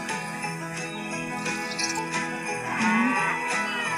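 A cow in the Hay Day farming game moos in a loud, drawn-out call, with steady game music and soft chimes playing underneath.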